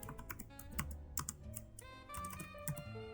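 Typing on a computer keyboard while configuring a Debian 10 server, quick irregular key clicks heard faintly over a steady musical background, with no talk.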